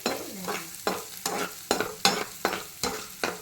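Onions sautéing in a pan while cooking goat brain, a continuous close sizzle broken by regular rhythmic scrapes of a stirring spoon, about two per second, with no talking.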